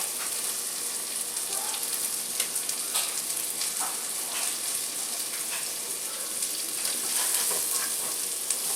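Chilli with sausage sizzles steadily in a pot while being stirred, a continuous hiss of frying with soft scraping and bubbling pops running close and even throughout.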